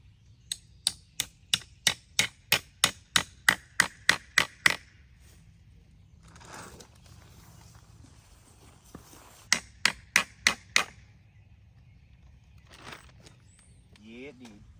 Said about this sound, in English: You take the nail and you slide it through, and then you hammer it right in.